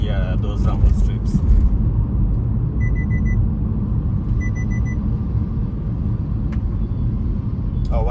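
A Nissan X-Trail drives over rumble strips on a Kenyan highway between Kisumu and Nairobi, producing a steady, heavy rumble through the noisy suspension. Two short electronic lane-assist beeps sound partway through, and someone talks over the noise.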